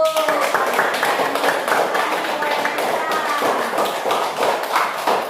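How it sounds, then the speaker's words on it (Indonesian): Steady applause from a group, dense and continuous clapping with some voices mixed in, sustained throughout. "Tepuk tangan buat Putri dulu."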